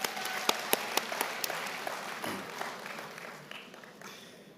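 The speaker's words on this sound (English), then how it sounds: "Let's give them another round of applause" Audience at a university's ten-year celebration applauding poets, a choir and a dance group, a crowd clapping with a few sharp individual claps at first, then tapering off.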